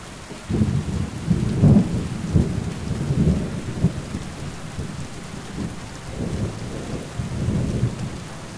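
A thunderstorm in Kingdom Come Deliverance 2, with steady rain and low rumbling thunder that swells in a few rolling bursts, loud and close, without any voices.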